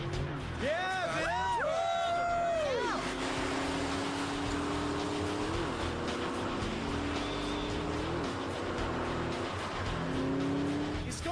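A car on a Bullrun rally revs hard with its tires squealing and spinning as they dig in, the engine wailing up and down, then a steady loud drone with voices talking over it.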